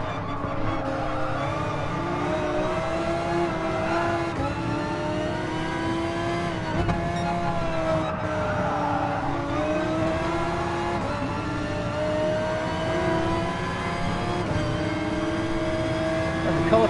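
Porsche racing car engines roar steadily in GT Sport at the Red Bull Ring, a dense, continuous engine drone with shifting pitch as cars rev and pass, loud and unbroken throughout with no talk over it.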